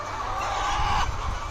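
Caged laying hens at a layer poultry farm, five birds to a cage, give a continuous murmur of clucking and soft calls under a steady barn hum, close and moderately loud.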